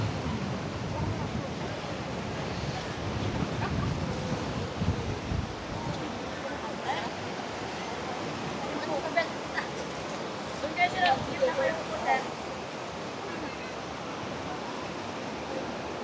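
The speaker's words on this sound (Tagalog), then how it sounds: "Grabe ang hangin dito na part." Strong wind roars across the microphone at the beach on Boracay Island, a steady rushing blast with surf-like noise, and voices talk faintly underneath.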